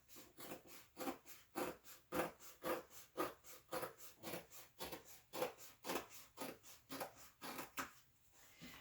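Scissors trimming fabric seam allowances on a sewn bag, producing a quick, regular series of soft crunching snips, about two per second, close and quiet, ending shortly before the close.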